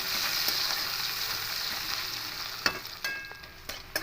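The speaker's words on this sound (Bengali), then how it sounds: "লাল লাল করে ভাজা হয়ে গেছে এবার এগুলো তুলে নেব" Bitter gourd fries in mustard oil with a steady near sizzle, ending in several sharp scrapes and clatters as the pieces are lifted out of the pan.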